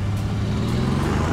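A tuned power bus accelerates on a dynamometer, its engine making a loud, continuous low roar that holds steady over the short stretch with no voices.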